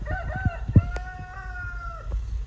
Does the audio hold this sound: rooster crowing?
yes